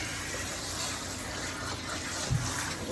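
Running water rinses a cat during a bath, a soft steady splashing and gushing flow at low level with a brief thump near the end.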